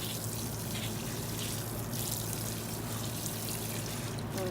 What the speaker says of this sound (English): I'm gonna go ahead and water our plant here.